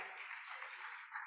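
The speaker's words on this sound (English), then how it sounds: "Can we applaud him as he comes up to the podium?" Conference audience at a procurement summit applauds as a speaker walks up to the podium, producing a brief, steady wash of clapping that sounds faint and distant.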